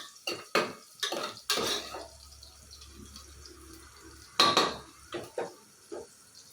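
Carrot, potato and peas go into a cooking pot for vegetable pulao, with several close metallic clanks and spoon scrapes in uneven bursts and quieter stirring between.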